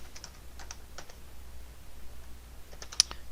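Clusters of crisp computer-keyboard keystrokes, close and clear, tapping in short bursts with brief pauses between words and a sharper click near the end; no one speaks.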